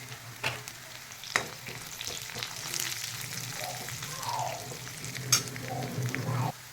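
Onion fries in a pan as curry leaves go in, with a continuous close sizzle broken by a few sharp spoon knocks and stirring scrapes.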